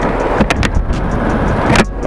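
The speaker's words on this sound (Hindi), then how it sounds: "और गाड़ी बहुत तेज आ रही है ऊपर से" A car on an uphill road near Jaipur approaches from above, giving a steady, loud rushing drone of engine and tyres that swells slightly near the end, with some clicks and knocks on top.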